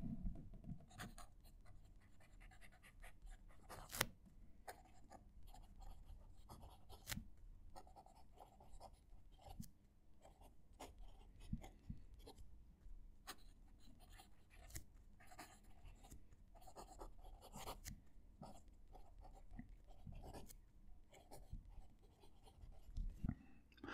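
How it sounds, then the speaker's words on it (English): A fountain pen writes on paper with a rough, scratchy scrape, a faint but close stream of small scratches and ticks that continues without a break. "there's a lot of scratchy noises coming off there"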